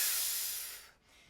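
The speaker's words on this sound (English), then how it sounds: "And if you're blowing that way, you can hear it hissing." Fast, focused air is blown out in one sharp, breathy hiss, close and fairly loud, that fades away before a faint second breath begins.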